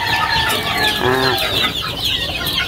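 Chickens cluck loudly and close by, with thin chick peeps layered in, in a dense, continuous farmyard chorus.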